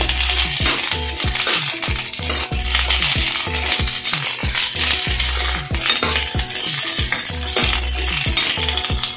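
Onions fry in a pan over a full gas flame for a bhindi besan masala, with a steady sizzle under repeated metallic scrapes and rattles from a stirring spoon, loud and close, with no voices.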